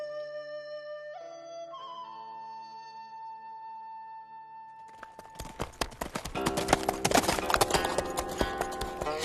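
Horse hooves clip-clop in a quick, steady rhythm, loud and close, entering after a few seconds of soft sustained musical tones and carrying on to the end.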